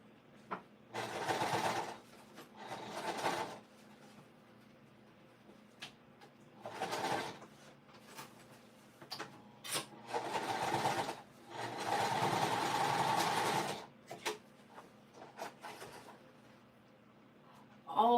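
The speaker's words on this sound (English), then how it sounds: "I'm just going to sew it and trust the process, and usually it still comes out okay." Sewing machine stitching a gusset in short bursts, each run a few seconds of fast mechanical whirring with quiet pauses in between, close and fairly soft.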